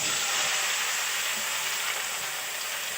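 Pieces of elephant apple (chalta) fry in hot oil with panch phoron, giving a continuous close hiss and crackle that stays loud and even with no voices.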